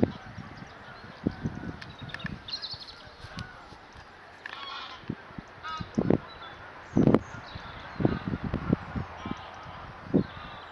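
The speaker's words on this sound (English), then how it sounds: "you can probably just about hear them, Canada geese flying over" Canada geese honk repeatedly flying over an allotment, their calls coming in irregular bursts, some distant and faint, others louder and nearer.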